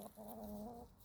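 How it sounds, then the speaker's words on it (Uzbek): A single chicken gives a short, close cluck, faint but clear against a quiet yard. "Mana shu tovuqlarimiz."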